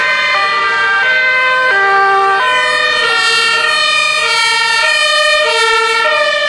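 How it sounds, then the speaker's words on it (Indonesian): A toy fire truck's siren sounds loud and close, stepping through bright alternating wails in a repeating pattern with no one talking over it. "Ternyata ada mobil pemadam."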